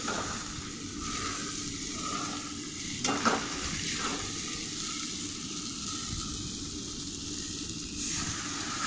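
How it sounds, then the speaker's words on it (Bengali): Spice masala for a potato and soybean curry frying and being stirred in a pan, a steady close sizzle with repeated scraping strokes and a brief clatter midway. "এরপর নুন দিলাম এতে একটু, আবার একটু কষে নিলাম।"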